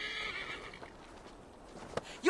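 A horse in Assassin's Creed Valhalla whinnies briefly at the start, then gives way to quiet game ambience with a single sharp knock and a rising sound at the very end.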